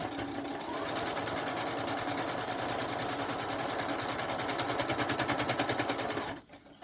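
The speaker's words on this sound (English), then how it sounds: "Needle down, reposition, sew to the end." A sewing machine runs a quilt block seam in one loud, continuous stretch of fast, even needle strokes right up close, cutting off abruptly near the end.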